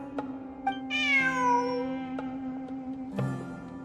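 A cat in Genshin Impact meows once, a clear, drawn-out, falling cry close by, set against a steady low hum and a few short clicks of game sound.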